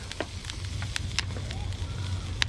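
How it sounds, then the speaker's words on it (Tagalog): Fire on a grill roasting pork crackles and pops in sharp, irregular snaps over a low rumble of wind, close by. "kailangan nating anoin yung apoy para hindi masunog yung iniihaw natin"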